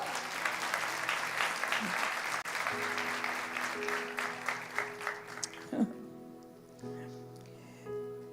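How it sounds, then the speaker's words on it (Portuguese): A church congregation claps through a celebration service, dense at first and then thinning into scattered claps, with a speaking voice and tones rising over the fading applause. "Você pode dar uma salva de palmas ao Senhor?"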